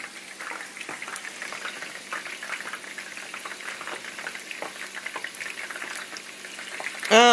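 Chicken strips fry in oil in a pan, making a dense, even bubbling sizzle with scattered small crackles close to the microphone, ending in a brief louder rustle.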